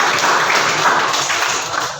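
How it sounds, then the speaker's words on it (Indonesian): A classroom of students breaks into dense, steady applause. The clapping is loud and close and fades slightly toward the end. "Oke, tepuk tangan."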